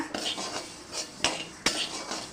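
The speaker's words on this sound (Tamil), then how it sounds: "இப்போ அரிசியை வறுத்துக்கலாம் சிறுபருப்பு வறுத்துக்கலாம்" Rice and moong dal dry-roasting in a pan, heard as a few distinct metallic spoon scrapes and clinks against the pan over a dry rustling stir, close and brief.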